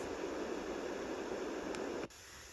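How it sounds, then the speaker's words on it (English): Steady pink noise from a Magicteam sound machine, a smooth, even hiss weighted toward the lower range, running continuously before a brief click as it switches to the next sound. "Second sound is pink noise."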